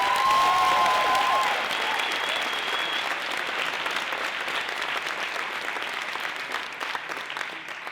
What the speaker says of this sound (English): Please join me in giving Steffen and Copenhagen Zoo an extra round of applause for being the case company.